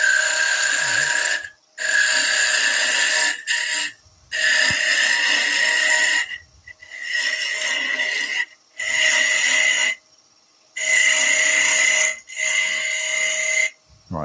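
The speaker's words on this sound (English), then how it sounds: "So if I use my beading and parting tool," A beading and parting tool cutting wood spinning on a lathe, loud raspy scraping in repeated bursts of one to two seconds separated by short pauses, close and alone.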